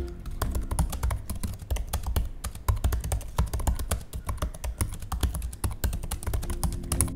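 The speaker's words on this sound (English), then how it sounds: "Typing on this keyboard sounds very satisfying" Rapid, even typing on an Apple M1 MacBook Air scissor-switch keyboard, soft crisp key clicks in a steady flow, close up with no speech.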